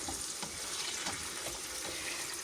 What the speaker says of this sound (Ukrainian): Коли у вас цибулька так підсмажилася, додаємо сюди наш сік